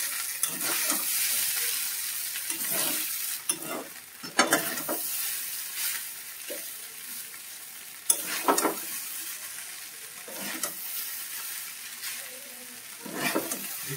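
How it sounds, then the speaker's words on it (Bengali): Ground chili, coriander and cumin being stirred in a frying pan, a soft sizzle underneath with repeated scraping strokes every second or two, close and fairly quiet. "লঙ্কা ধনে জিরে গুঁড়িয়ে রেখে দিয়েছিলাম, দিয়ে নেড়ে চেড়ে নেবো।"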